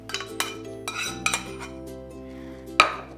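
A zucchini and ricotta mixture being stirred into cooked pasta in a pot: a spoon clinks and scrapes against the cookware in a few sharp knocks and soft stirring sounds, close by, with no voices.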